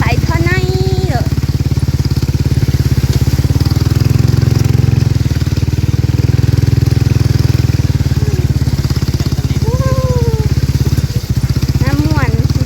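A saleng motorcycle engine drones loud and close while being ridden in heavy rain, its steady low throb running the whole time. Voices chatter faintly over it now and then.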